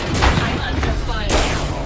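Gunfire crackles in a battle royale video game, dense bursts of shots layered over constant loud game noise, with a couple of sharper volleys standing out near the start and the end.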